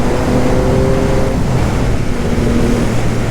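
2021 Yamaha MT-09 SP motorcycle accelerating hard, a loud, steady engine drone with rising tones under heavy wind roar, heard close from the rider's position.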